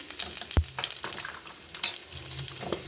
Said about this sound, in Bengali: গরম হয়ে গেছে একটু পাঁচ ফোড়ন দিয়ে দিচ্ছি